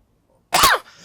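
A single dry cough comes after a moment of near silence. It is close and loud, a sharp rasping burst that fades into a short breathy tail.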